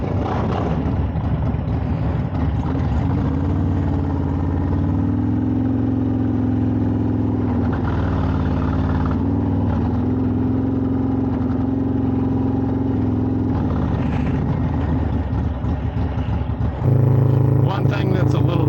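Harley Davidson motorcycles with 135 and 128 cubic inch engines idle with a steady low rumble throughout, a rev rising near the end, heard close while people talk over the engines.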